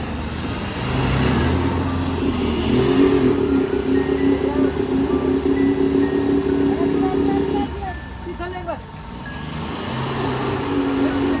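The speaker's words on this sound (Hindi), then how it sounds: "अब स्पीड से अगर गाड़ी को चला के एकदम से इस एरिया से निकाल लेंगे जो दलदल जैसा है" A car stuck in a muddy, swampy farm field revs hard in a sustained, steady engine drone as it tries to drive free, dipping briefly near the end before picking up again, with voices talking over it.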